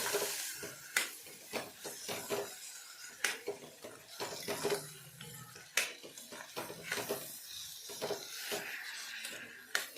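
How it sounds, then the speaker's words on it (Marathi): Moth bean curry with spices being stirred in a pan, with repeated spoon scrapes and clinks against the metal over a faint sizzle, close and uneven in rhythm. "आता पूर्ण मसाला आपल्याला इथे मिक्स करून घ्यायचं आहे पूर्ण ही मटकी एक संघ झाली पाहिजे"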